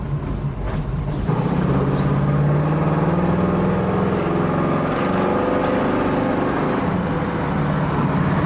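A 1972 Chevrolet El Camino cruises along, its steady engine drone and road noise filling the cabin continuously, with a slight change in tone early on as it slows under braking.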